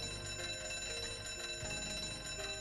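A fire alarm bell rings continuously, a loud metallic clatter that holds steady throughout with no voices.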